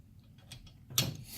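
An 11/16 wrench tightens a hose fitting on the fuel filter J-tube of a 2500 Ram with a 6.7 Cummins, giving a few faint metallic clicks and one brief louder ratcheting scrape near the end.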